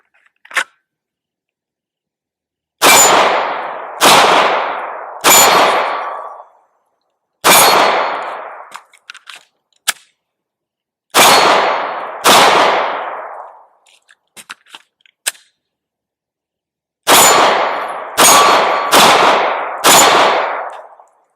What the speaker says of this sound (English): let's shoot the steel target about 10 yards and do some magazine change here as well